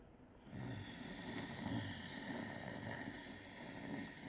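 A deep, breathy exhale during a breathing exercise, roaring like a hot air balloon burner, begins after a brief quiet start and holds a steady, close, rushing drone for about four seconds with no speech.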